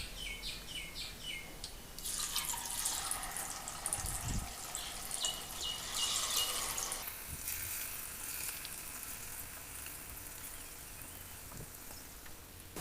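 Chicken pieces deep-frying in oil for restaurant-style chilli chicken give off a hiss that swells loud for several seconds, then eases to a lower bubbling, with faint chirps at the start and no talking.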